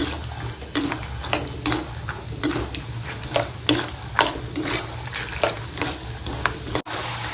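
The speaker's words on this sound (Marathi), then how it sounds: "चांगले शेंगदाणे भाजते, मस्त भाजते" Peanuts roast in a pan over low gas for traditional chivda, with repeated dry rattling scrapes and clicks as they are stirred, a rhythmic series of sharp taps over a faint background hiss.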